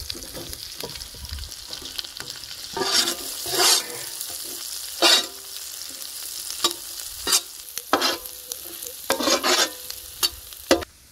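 Onions frying and being stirred on a tawa for a village-style mutton tawa fry: a steady sizzle under repeated loud scraping strokes of a spatula, close up and with no voices.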